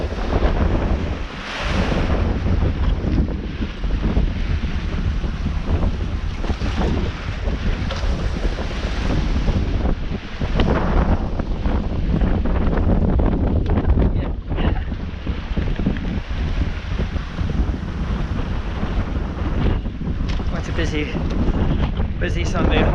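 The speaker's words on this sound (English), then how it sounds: "And the waves are going by." Waves rush and slosh steadily around a Contessa 26 sailboat at sea, with heavy wind buffeting the microphone throughout.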